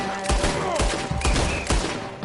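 A burst of gunfire in Red Dead Redemption 2, several loud close shots cracking in quick succession amid a chaotic exchange, with game music and ambience underneath.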